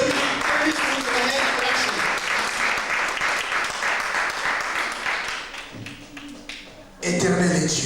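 A church congregation applauds and cheers for God, a loud sustained wave of clapping that dips briefly before surging again near the end.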